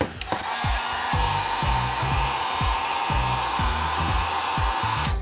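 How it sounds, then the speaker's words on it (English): A heat gun blowing steadily for a DIY cable soldering job, a constant loud airy whoosh with a series of sharp clicks and taps ticking over it, no speech. "Let's start with the heat gun."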